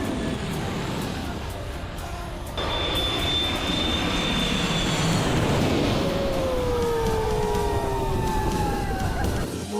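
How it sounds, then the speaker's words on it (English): A jet airliner passes low overhead while landing at the runway end in St. Martin, a rising whine and roar swelling midway and drifting off, with crowd noise beneath it. "Have you ever stood at the end of a runway and watch a plane land and it feels like the plane is on top of your head?"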